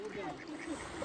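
A muscovy duck in a park on Green Island, among people, geese and pigeons, gives soft repeated calls that blend into a steady outdoor background while people talk over them nearby.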